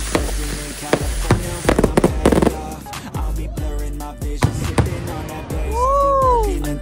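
Fireworks from an orange box barrel go off in a night scene, with repeated sharp pops and crackles over a busy background, then a rising whistling tone near the end.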